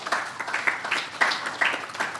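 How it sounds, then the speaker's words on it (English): Scattered applause from a live-streamed session audience, a handful of separate claps at an uneven pace, sparse and moderately quiet. "I would ask that you all give yourselves a round of applause"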